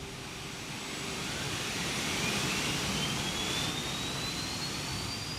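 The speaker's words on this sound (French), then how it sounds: "L'avion est conduit jusqu'au centre d'essai et placé sur cale pour éviter qu'il ne quitte la piste." A jet airliner is moved along the apron toward a test centre, its engine giving a steady distant roar and hiss with a faint rising whine, no voices.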